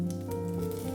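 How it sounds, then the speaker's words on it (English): Red onions fry in chili oil in a non-stick pan over medium heat, giving a steady, loud, close sizzle with a constant crackling hiss and no talking. "green onions, saute for about 2 minutes."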